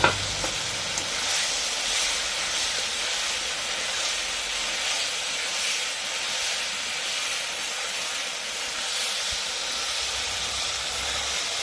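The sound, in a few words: brinjal and small fish curry sizzling in pan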